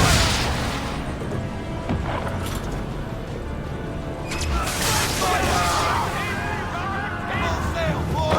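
Naval cannons boom in a sea battle in Assassin's Creed III, heavy rumbling blasts and crackling volleys rolling over wind and ship noise, with shouted voices mixed in.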